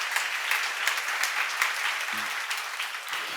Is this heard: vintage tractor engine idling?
no